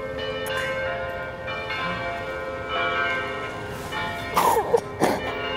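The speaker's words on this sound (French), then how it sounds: "écoutons la cloche. Ça, c'est un funérail" A church bell tolls slowly for a funeral with long ringing overtones, several strikes blending in a sustained hum, with a brief murmur of voices near the end.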